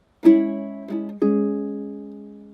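Ukulele notes are plucked fingerstyle from a song, three clear notes in quick succession, each ringing out and slowly fading, close and alone.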